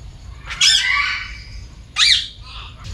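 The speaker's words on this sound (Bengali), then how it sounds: "এটার ভিতরে অনেক প্রকারের পাখি আছে, যেমন চন্দ্রনা, লাল গলা টিয়া, হিরামন।" Parrots such as Alexandrine and rose-ringed parakeets call in a zoo aviary at Bangladesh's national zoo in Mirpur: two loud, rasping squawks close by, with a brief quieter call at the end.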